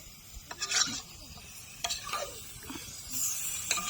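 Chicken pieces braised kosha-style in a pan, stirred with a spatula: a few scraping strokes over a low, continuous sizzle, close and fairly quiet, with no talking.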